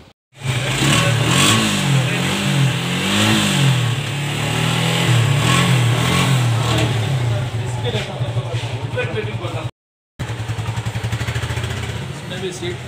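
A motorcycle engine revving during a test ride at a bike showroom in Jayanagar rises and falls in pitch, sounding loud and close with a steady idle and a brief dropout near the end.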